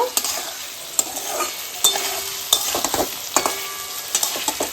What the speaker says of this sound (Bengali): টমেটো যতক্ষণ না গলে যাচ্ছে ততক্ষণ একটু ভেজে দেবো